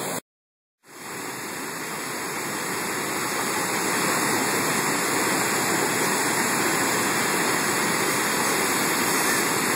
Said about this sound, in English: it goes around the corner down another big waterfall.